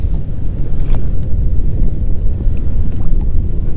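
Strong wind blows over a boat on Lake Hartwell during a bass-fishing outing, buffeting the microphone in loud, continuous low rumbling gusts with no talking.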